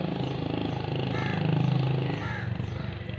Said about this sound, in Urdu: ابھی یہ موٹر سائیکل ایک اور